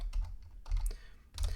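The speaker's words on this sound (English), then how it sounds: "sorry for my typing" Someone types quickly on a computer keyboard, producing a close, dense patter of soft key clicks in small clusters.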